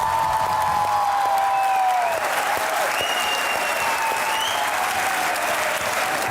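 A studio audience on a Pakistani talk show applauds as anchor Muneeb Farooq is welcomed as a guest, loud sustained clapping with music tones running underneath.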